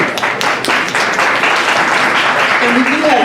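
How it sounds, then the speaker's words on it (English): An audience applauds at a panel discussion, giving a dense, steady wash of clapping that continues through the clip with faint voices mixed in. "Let's give another round of applause."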